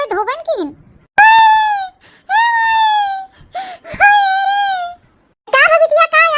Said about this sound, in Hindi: का बिटिया का या काहे रोवत हो?